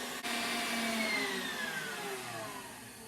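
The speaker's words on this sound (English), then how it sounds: "Now I'm turning my mixer off" An electric mixer beats an oil, egg and sugar mixture for a cake batter, a continuous close whirring drone with a slowly falling pitch, alone without speech.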